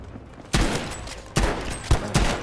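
Gunfire and explosive blasts in Battlefield V: a low background rumble broken by several loud, booming impacts at irregular intervals, each with a short ringing tail.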